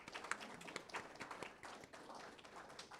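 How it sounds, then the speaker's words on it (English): A conference audience at a healthcare innovation event gives a round of applause for a staff member, a soft, distant patter of scattered hand claps heard at low level. "I think we should give her a round of applause for that."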